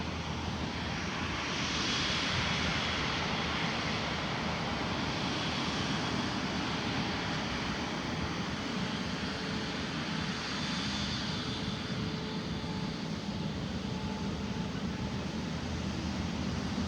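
A China Eastern Airbus A350 roars on its takeoff run, the jet engines producing a loud, continuous, broad rushing drone that holds steady for many seconds without a break.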